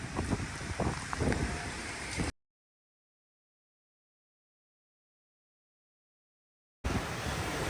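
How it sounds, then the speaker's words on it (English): Hurricane Francine's gusting wind and rain batter a microphone outdoors in rough, buffeting bursts, loud and close for a couple of seconds. Then comes a long stretch of dead silence before the blustery roar returns. "Got some gusts coming through."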